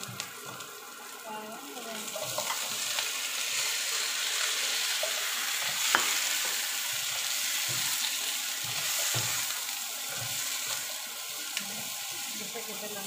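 Hairy gourd stew with browned shrimp sizzles and crackles in a pan as it is sautéed, a steady frying hiss broken by scraping stirs and occasional clinks.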